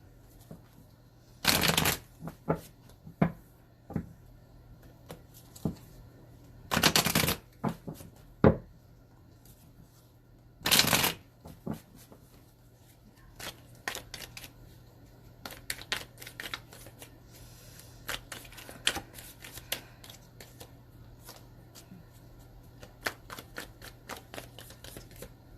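Tarot cards being shuffled and drawn, with three loud riffling bursts spaced apart and many sharp single card snaps and taps between them, close up, with no talking.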